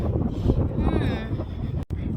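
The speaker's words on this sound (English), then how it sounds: "unfortunately it's super windy" Heavy wind buffets the microphone beside a lake with a constant low rumble and gusty roar, close and loud, with brief shifts in intensity.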